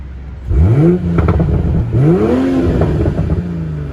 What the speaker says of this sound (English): There's a sport mode that opens up the baffles and the exhaust, and you get a lot of back pressure.